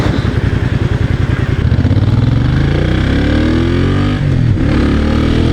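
A 1996 Honda Magna 250cc motorcycle engine revs up loud and close: a rapid, pulsing idle chug climbs steadily in pitch through a strong acceleration, briefly dips as the throttle eases, then pulls again, with no talking.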